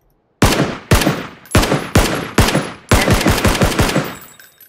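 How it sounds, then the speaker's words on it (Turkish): PUBG gunfire rattles out in loud, close, rapid bursts. A few spaced single shots come first, then a quicker automatic string, each crack ringing with a short echoing tail. No one talks over it. "Bak ya mermi atsam gelecek mi sana?"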